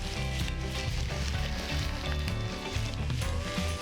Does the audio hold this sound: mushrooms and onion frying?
yes